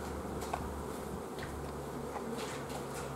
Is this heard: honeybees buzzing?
yes